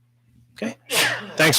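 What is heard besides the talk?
sneeze during meeting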